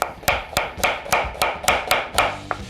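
A knife slices an onion into julienne strips on a cutting board, about nine crisp, evenly spaced chops in quick rhythm, close and clear.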